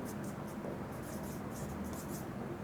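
Marker or chalk scratching on a board during a finance lesson, steady close strokes with no talk in the moment.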